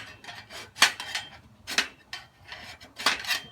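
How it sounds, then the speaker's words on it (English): A hand file rasps a small burr of laser-left steel off the edge of a flat steel welding table, heard as a few short, bright scraping strokes in an uneven rhythm, close up and with no talking. "So you can just take your file."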